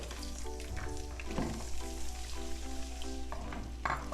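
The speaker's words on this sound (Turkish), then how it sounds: "Biberlerimizi kızartacağız." Steady oily sizzling and crackling of peppers frying in a pan, soft and close, with a few light clinks of a utensil.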